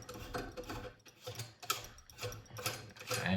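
A valve cartridge sleeve on a Santec 1/2-inch valve with diverter being screwed on by hand until it stops, giving close, quiet rhythmic ratcheting and threaded clicking in short repeated bursts.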